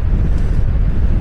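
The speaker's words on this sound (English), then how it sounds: "Yeah, it's very windy, folks, up here." Strong wind buffeting the microphone on a hilltop at Shanklin on the Isle of Wight, a loud, constant low rumble with no voices.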